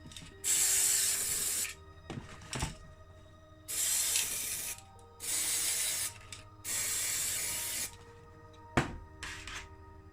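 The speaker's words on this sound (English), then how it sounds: "So we'll get up some of this spray paint remover." Aerosol paint remover sprayed from a can onto a Matchbox Series No 53 CJ6 Jeep die-cast model: four long, loud hissing bursts of a few seconds each with short pauses between, plus a few small clicks and knocks.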